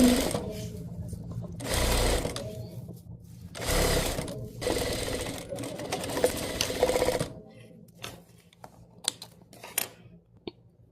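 A sewing machine stitching beaded fabric runs slowly in several bursts of steady mechanical whirring, close and fairly loud, with short pauses between runs and scattered small clicks and handling taps toward the end.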